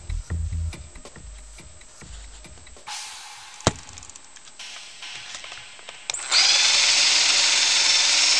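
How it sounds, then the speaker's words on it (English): A small power drill whirs in short bursts while drilling a hole through an axle, preceded by faint ticking and handling sounds, then runs steadily and loudly at the end. "I need to drill a little hole through the middle of the axle"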